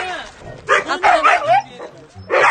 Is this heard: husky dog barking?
yes